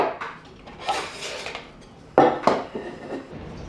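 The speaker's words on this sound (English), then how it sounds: "So get the jet boil set up here and get some water boiling." Metal clinks and clatters of a Jetboil camp stove being assembled for boiling water at a remote high-altitude fire lookout, a few scattered close knocks with two sharper clanks midway, no talking.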